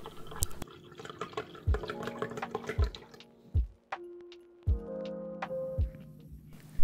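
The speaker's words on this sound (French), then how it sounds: "je viens me verser un verre de jus" Juice being poured into a glass at a kitchen breakfast setting, with faint liquid trickles and drips punctuated by a few sharp clinks and taps of glass, quiet and close.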